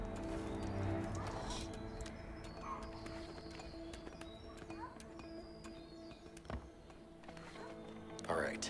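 Horses in the video game A Way Out, with hoof clip-clops and occasional whinnies over steady game ambience and distant birdsong while people talk throughout.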